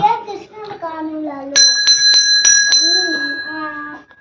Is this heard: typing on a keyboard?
no